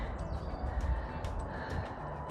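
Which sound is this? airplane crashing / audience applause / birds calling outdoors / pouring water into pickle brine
birds calling outdoors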